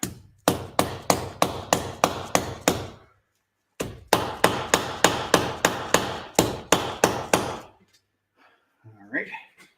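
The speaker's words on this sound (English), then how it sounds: "All else fails, get a bigger hammer." Heavy hammer blows land on motor parts during a teardown, fired in fast bursts of about seven to ten sharp, loud strikes, with pauses between bursts and some faint handling noise at the end.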